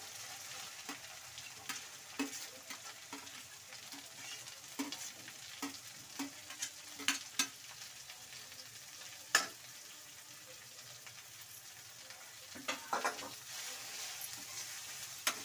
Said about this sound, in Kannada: ಇದೇ ರೀತಿ ಎಣ್ಣೆಯಲ್ಲಿ ಫ್ರೈ ಮಾಡ್ಕೊಳ್ಳಿ.